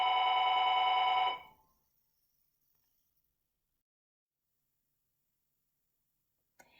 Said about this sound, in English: that intermission when the phone rang, and we actually had to get that